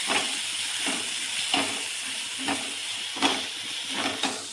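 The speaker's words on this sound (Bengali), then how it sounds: "এখন আমি এখানে দিচ্ছি পেঁয়াজ বাটা, রসুন বাটা আর আদা বাটা। এগুলোকে আমি এখন ভালো করে কষিয়ে নেব।" Onion, garlic and ginger paste frying in a pan, a continuous sizzle broken by regular stirring scrapes about once a second.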